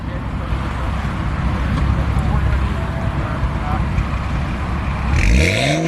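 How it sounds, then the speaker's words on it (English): Car engine revving and rising in pitch near the end, with steady road and wind rumble beforehand and voices talking over it. "Give us a rev, Muhammad."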